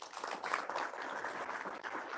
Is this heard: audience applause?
yes